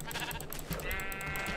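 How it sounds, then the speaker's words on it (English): A Minecraft sheep bleats as it is punched in the game, a couple of short, wavering electronic baas standing alone with no talk over them. "Can you punch the sheep?"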